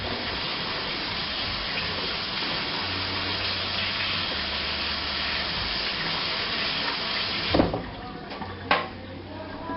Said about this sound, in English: I'm just going to give my hands a quick wash